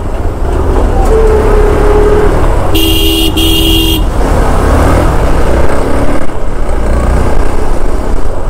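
Road traffic in Mangaon on the Konkan coastal road, with a loud close engine rumble and car horns honking in short bursts, including a sharp double blast midway.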